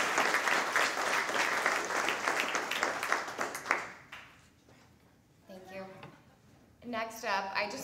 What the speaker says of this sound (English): a big round of applause for our friend Paul Mark.